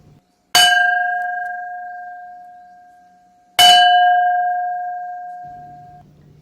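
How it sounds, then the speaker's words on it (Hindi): A school bell signalling the end of a class period strikes twice, each clang ringing out and slowly decaying, close and clear with no voices. "बिल्कुल सही, घंटी की आवाज से।"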